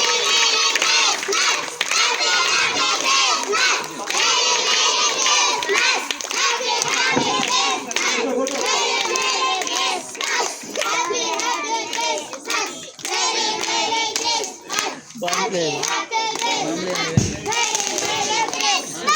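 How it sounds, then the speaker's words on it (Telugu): Hands clap in a lively crowd at a Christmas cake cutting, steady applause mixed with children's chatter and overlapping voices throughout. "చప్పట్లు కొట్టి"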